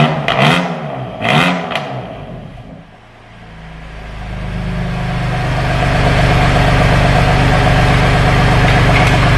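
A BMW M2 Competition engine blips twice sharply, dips back toward idle, then swells into a loud, sustained rev around 3,000 RPM, close by and droning steadily to the end.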